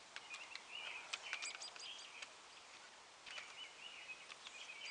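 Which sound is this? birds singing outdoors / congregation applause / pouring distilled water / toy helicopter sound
birds singing outdoors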